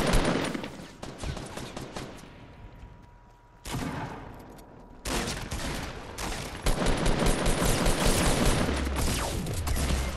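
Dense bursts of gunfire in the Fortnite battle royale game, rapid overlapping shots loud and close, with a short quieter gap before the firing resumes and continues heavily to the end.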